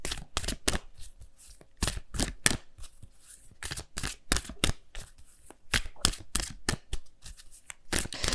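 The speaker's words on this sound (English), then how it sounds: "we're going to have a look at your abundance using the Angel of Abundance cards here" Angel of Abundance oracle cards being shuffled by hand, with quick, crisp riffles and slaps in an uneven rhythm, close-up and alone without speech.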